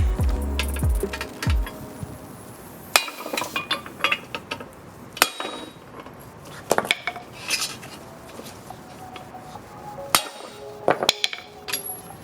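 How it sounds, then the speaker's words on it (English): A 24mm socket is hammered against the front wheel hub of a 1991 Honda Civic during a suspension rebuild, giving several sharp metallic strikes with clinks and clatter between them, close and loud. "I'm gonna hit at the hub just to get it slid out."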